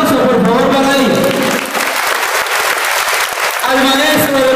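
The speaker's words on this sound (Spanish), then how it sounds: "Aplauso, por favor" Applause breaks out at a school homecoming ceremony at a public school in Peru, loud and close, with a crowd clapping steadily and voices mixed in over the clapping.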